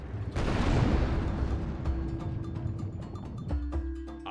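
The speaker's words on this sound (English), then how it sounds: "Massive explosion!" A massive explosion rips through the survival crafting game Tribe: Primitive Builder, a sudden loud broadband blast that rolls into a long rumbling decay, followed by a lower thud and lingering tonal hum.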